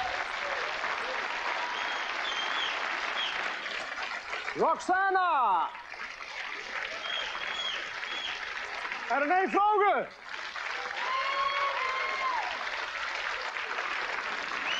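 Studio audience applause on a 1988 Dutch TV variety show, a dense steady clapping wash running under a male presenter's voice, with two bursts of music cutting through midway.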